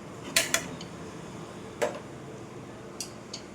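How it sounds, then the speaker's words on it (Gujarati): A few sharp metallic clanks and clicks of a pressure cooker lid being handled and closed over mixed veg pulao, spaced apart over a quiet background. "આપણે કુકરને બંધ કરી લઈએ"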